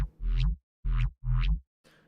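Three short, deep bass notes pulse in a steady rhythm with a shifting, wobbling upper edge from a frequency shifter in Ableton, followed by a faint fourth hit.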